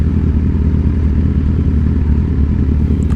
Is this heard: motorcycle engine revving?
yes